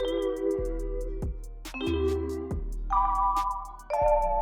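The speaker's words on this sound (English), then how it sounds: "I went to Loophole #3 and I went with the classic Glock mallets." Glockenspiel-style mallet presets from a Splice sample bank play a dark melodic pattern, bright struck notes ringing out in sequence over a low sustained bass, with distinct attacks about every half second.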